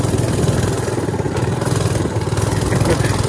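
A motorcycle engine runs steadily nearby, a loud throbbing idle with an even, rough pulse, while a voice can be heard briefly in the background.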